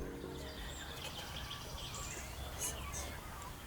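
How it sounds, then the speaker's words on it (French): Young cormorants call at a nesting and resting site along a river loop, faint chirps and squawks over a steady background hiss outdoors. "On entend les jeunes cormorans."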